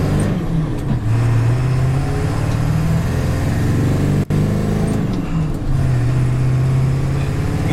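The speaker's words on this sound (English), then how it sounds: "It's just a really sound diesel motor." A diesel vehicle engine pulls hard up a hill, a loud steady low drone that rises and dips as it climbs, with one brief break partway through and no talking.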